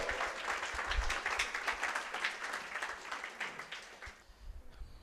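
Church congregation applauding together to welcome the pastor to the front, a sustained wash of clapping that stays loud for several seconds before thinning out near the end.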